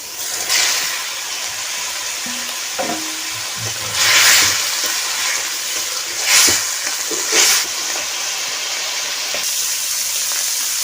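Water hits a sizzling puti fish curry in a pan, raising a constant close frying hiss with several louder bursts of steamy spitting and a few utensil knocks.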